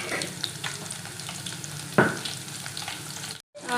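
Grated raw mango pickle mixture sizzling in a hot pan, a continuous crackling fry with a sharp scrape of stirring midway and a brief dropout near the end.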